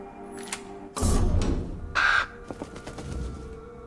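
A crow in the video game Tainted Grail: Fall of Avalon gives two loud, harsh caws about a second apart, with faint rustling and quieter game sounds before and after.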